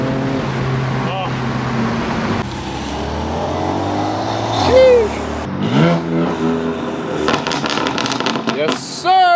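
A tuned 350HP Volkswagen MK7 GTI with downpipes and aftermarket exhaust revs hard under acceleration from inside the car, rising and falling engine tone with sharp pops and crackles on lift-off, while occupants talk over it.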